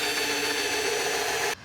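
A drill runs briefly into wood, boring a pilot hole in a board for a raised garden bed, a steady close whir that holds evenly and then cuts off abruptly.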